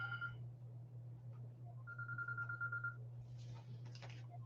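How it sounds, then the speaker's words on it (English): A telephone rings faintly over a steady low hum: short electronic tone bursts, the clearest lasting about a second, with scattered clicks near the end and no speech. "I got to take this phone call"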